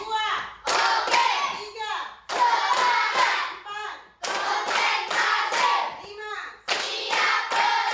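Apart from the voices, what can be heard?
rhythmic hand clapping in a classroom ice-breaker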